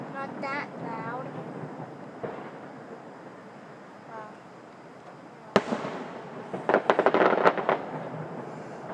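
Fireworks viewed from a home deck in 2011: a distant boom at the start, then a cluster of sharp crackling bursts and pops toward the end, with whistling streaks and people talking quietly in between.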